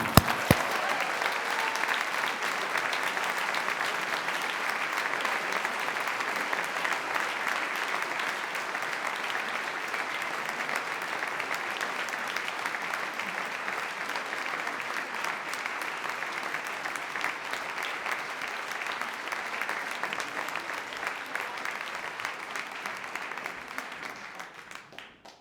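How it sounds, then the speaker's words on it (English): Long, sustained audience applause at an awards dinner for a university research award recipient, dense even clapping that holds steady before tapering off at the end. "Please give a round of applause to our first recipient of the 2021 University Research Award"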